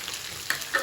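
A brief burst of close sizzling as food fries in a pan, with a couple of sharper crackles near the end and no talk.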